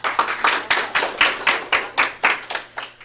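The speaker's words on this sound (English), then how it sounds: "Seriously, Eagle News, a better clap than that." Middle school students at a school news broadcast clap in a sparse, scattered way, about a dozen distinct claps spread evenly over a few seconds, fairly close, with no voices.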